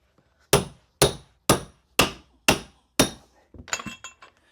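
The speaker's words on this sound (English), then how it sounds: "We're going to super groove that with the hammer" A hammer strikes a carpet tucker to push a carpet runner into the stair groove, six sharp, evenly spaced close knocks followed by a few lighter clinking taps.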